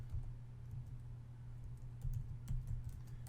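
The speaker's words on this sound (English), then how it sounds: "I'm going to type in here Red Melon" Typing on a computer keyboard, entering a web address into a browser: soft, steady key clicks over a low hum, with a few firmer taps near the end.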